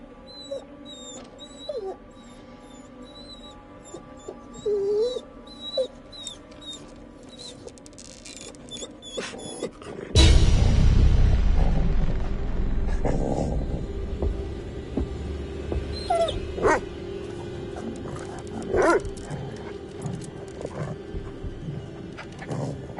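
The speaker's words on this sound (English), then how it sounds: "whimpering." A dog whimpers in a forest in the video game The Devil Inside, as thin high whines through a quiet ambience before a loud rumbling swell takes over midway, then scattered faint whimpers, with no talking.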